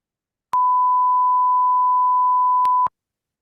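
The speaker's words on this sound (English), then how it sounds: "Oh, the beep did come through even though I muted myself." A steady single-pitch beep tone from an emergency broadcast system test, loud and clean, lasting about two seconds with clicks at its start and end, alone without speech.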